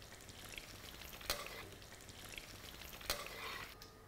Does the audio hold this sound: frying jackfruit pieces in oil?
yes